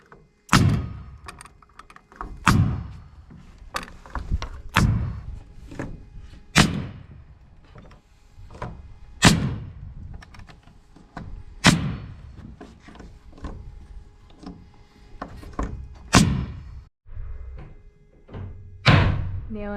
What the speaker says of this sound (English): Nailing up the last of our second row.